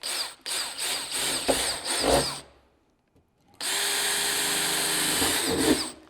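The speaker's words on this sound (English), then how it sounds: "we're gonna drill the holes where the bolts will go" A power drill drilling pilot holes for bolts in a Toyota Tacoma during a snorkel install, whining loudly in bursts, stopping for about a second before revving up again into a steady high-pitched grind.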